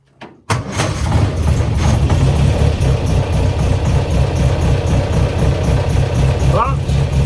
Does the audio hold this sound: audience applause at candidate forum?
no